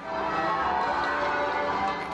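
Church bells ring continuously at a royal visit in Toronto, a dense, steady wash of overlapping peals at even loudness with no voices.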